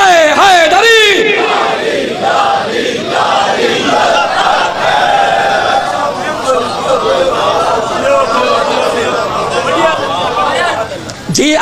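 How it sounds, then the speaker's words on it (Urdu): A large crowd at a religious celebration shouts in unison, a loud sustained roar of voices answering a Naara-e-Haidari slogan, with a rising call before it and chatter mixed in. "یا امام المنتظر نعرہ حیدری"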